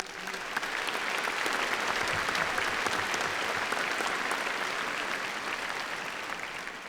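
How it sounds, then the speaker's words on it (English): A university graduation ceremony audience applauds continuously, a broad, even roar of many hands clapping throughout, somewhat distant in a large hall. "Done a bit of clapping."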